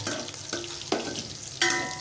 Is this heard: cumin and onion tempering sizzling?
yes